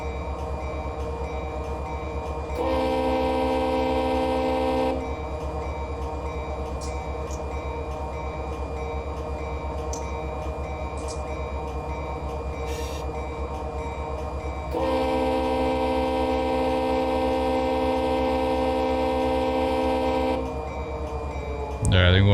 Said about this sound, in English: I think we're meeting an auto rack train.